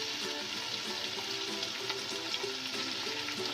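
Carrots fry in a pan alongside capsicum for chicken macaroni, giving a steady, close, dense sizzle with no breaks and no voices.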